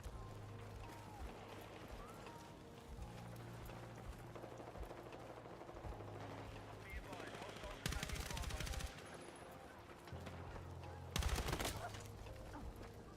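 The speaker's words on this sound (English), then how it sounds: "Dang, those LMGs are nasty. They have a quick time to kill." Light machine gun fire in the Battlefield 6 video game comes as two loud, rapid automatic bursts, each lasting about a second, over a steady hum of game sounds and engine drone.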